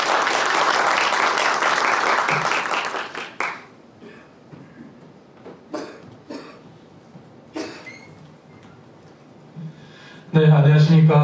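Audience at a party seminar breaks into dense, loud applause that stops sharply around three seconds in. Scattered coughs and shuffles follow in a quieter room, then another burst of clapping comes at the very end.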